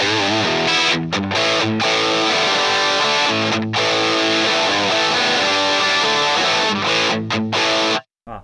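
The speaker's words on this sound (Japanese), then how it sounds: "クランチというか、まあいい感じに歪みますね。" An electric guitar played through a Headrush amp modeler with crunch distortion on firmware version 2.4 strums chords with a gritty overdriven tone, loud and continuous with brief pauses, then cuts off near the end.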